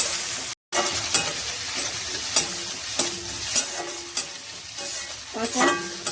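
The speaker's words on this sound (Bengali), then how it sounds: "এই আমি রসুন দিয়ে দিচ্ছি, এই আদা দিয়ে দিচ্ছি। এবারে সুন্দর করে আমি ভেজে নেব।" Garlic and ginger frying in a pan while being stirred, a loud steady sizzle broken by repeated scraping strokes of the spoon, close and continuous with one brief drop to silence.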